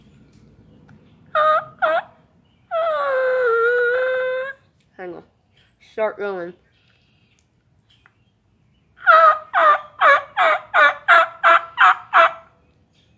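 A person imitates a turkey hen with a drawn-out yelp followed by a quick run of about ten sharp, rhythmic chirping clucks, with brief talk in between.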